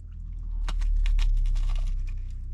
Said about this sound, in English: Going in for another big crunch.